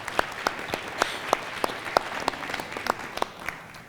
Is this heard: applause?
yes